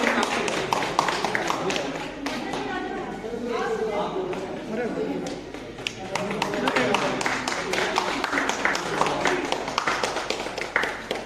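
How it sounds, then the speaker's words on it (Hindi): Guests at the SGS Tekniks New Year Celebration 2022 clap in welcome. Dense, continuous applause keeps going while people talk loudly over it. "तालियों से स्वागत कीजिए।"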